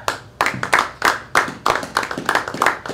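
Small audience at a charity stand-up comedy show in Nova Scotia clapping, a sparse, rhythmic burst of individual hand claps, close and distinct rather than a full roar.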